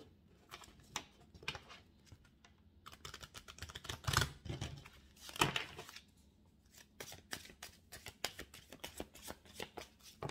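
A deck of cards is shuffled by hand for a card reading, giving quick riffling bursts and brisk flicks, close and fairly quiet, with sharper cascades in the middle.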